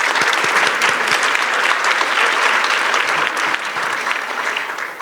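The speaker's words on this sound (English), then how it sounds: "Can we get a hand clap for them?" An audience at a community health panel discussion gives loud, sustained applause, a dense even wash of clapping that carries on with little variation and only begins to thin toward the end.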